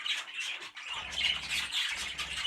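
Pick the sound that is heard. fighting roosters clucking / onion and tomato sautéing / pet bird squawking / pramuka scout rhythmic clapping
pet bird squawking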